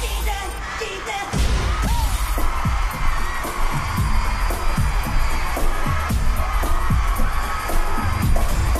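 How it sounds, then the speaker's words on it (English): A concert crowd at a 2002 American Bandstand performance roars and cheers loudly and continuously, with scattered shouts and bangs throughout. "Listen to the crowd."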